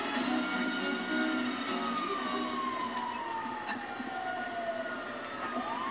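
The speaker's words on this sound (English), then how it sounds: "I'm gonna steal this ambulance" An ambulance siren in the video game GTA V wails steadily, with a clear descending sweep, heard continuously alongside traffic and engine noise.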